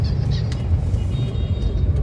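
A car on a busy city road in Sylhet, Bangladesh, swings through a U-turn, giving a close, steady engine rumble with road noise and no break.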